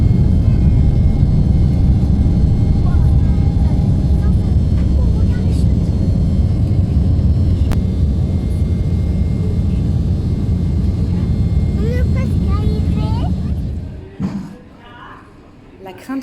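Steady engine roar inside a passenger airliner on a flight from Nantes to Zurich, loud and continuous low drone with faint cabin sounds, fading abruptly near the end.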